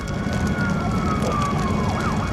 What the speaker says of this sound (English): they awake to sounds of sirens and the smell of smoke